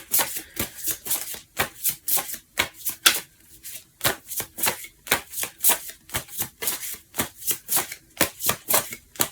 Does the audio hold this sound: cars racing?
no